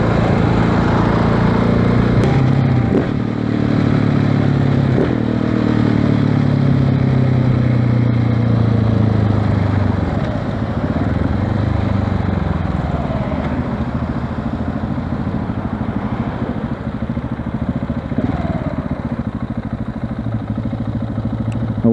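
A KTM 690 Enduro R single-cylinder motorcycle with an FMF exhaust and supermoto wheels rumbles loud and close, with a throaty engine note that rises and falls while riding, steadier toward the end.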